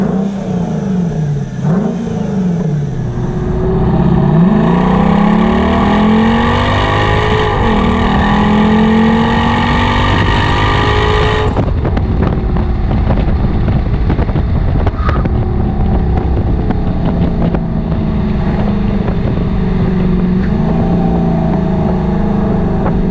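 Mercedes SLK 55 AMG V8 engine on the road: a loud, close throaty roar rising through the revs, a gear shift partway through, then a steady rumbling cruise with wind buffeting throughout.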